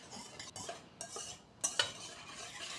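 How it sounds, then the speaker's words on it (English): A quiet, close whisk or utensil working a white wine vinegar and black pepper dressing in a bowl, with light metallic scraping and clicks and a couple of brighter taps, and no voices. "So whisk all of that together."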